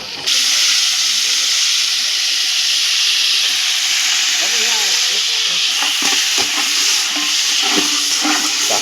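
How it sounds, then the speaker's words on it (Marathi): Chicken hitting hot tempering oil at an outdoor cookout sets off a loud, continuous sizzle and hiss, with stirring clatter and faint voices in the background. "अशा तऱ्हेने आता आम्ही चिकन फोडणी घालणार आहेत"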